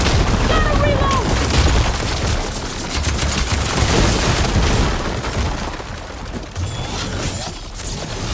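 Ballista shots and impacts in the Horizon Forbidden West video game, booming bursts amid dense continuous battle noise with machinery sounds, loud and sustained throughout the clip, with a voice talking over it.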